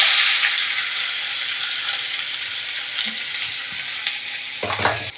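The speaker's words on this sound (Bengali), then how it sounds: "এখন পেঁয়াজটা ভাজা হয়ে গেছে" Chopped onion fries in hot oil for an egg bhuna, a steady loud sizzle throughout with a few scrapes and clunks of stirring near the end; no voices.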